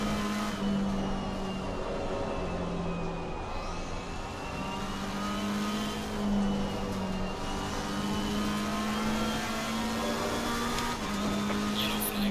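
A race car engine droning under throttle in Assetto Corsa Competizione at Suzuka, a steady loud hum with slight pitch rises as it accelerates and tire and wind noise around it.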